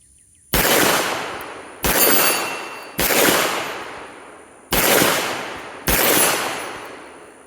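Five sharp, loud gunshots from a Girsan RC 9mm pistol fired outdoors, each with a long decaying echo, spaced roughly a second apart at an even pace.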